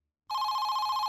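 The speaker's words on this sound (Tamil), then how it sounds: "ஃபோன்." A telephone rings in a Tamil TV drama scene, starting abruptly after a short silence and holding as a steady, loud electronic tone with a faint warble, close and alone.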